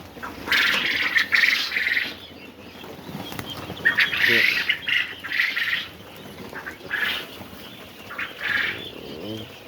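Quail at a quail farm call in repeated bursts of high, rasping squawks, a chorus of birds near the listener with short pauses between calls and faint background clatter.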